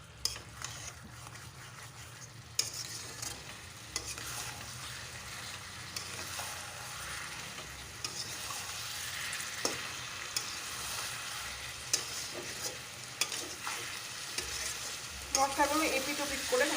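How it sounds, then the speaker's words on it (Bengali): Marinated mutton being stirred with turmeric and spices in a frying pan, making a continuous close sizzle with repeated scraping and clacking of the spoon throughout. "ভালো করে মশলাগুলো মিশিয়ে নেব"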